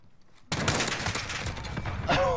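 A Grau 5.56 assault rifle fires in Modern Warfare: a sudden, loud burst of rapid automatic gunfire that starts abruptly after a short quiet moment and keeps rattling to the end.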